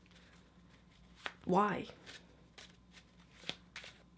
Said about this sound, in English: I can't learn how to shuffle cards and learn statistics.